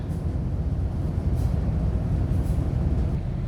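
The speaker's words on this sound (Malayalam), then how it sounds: "ട്രെയിൻ വീണ്ടും യാത്ര തുടരുകയാണ്." A mountain train pulls away from Mile End stop on the climb toward Belair, producing a steady low rumble and clatter heard from on board, continuous and moderately loud with no speech.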